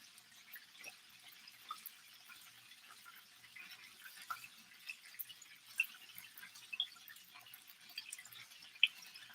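Chicken wings frying in hot oil, a quiet steady crackle with scattered small pops and sizzling bubbles, irregular and faint, with no voices.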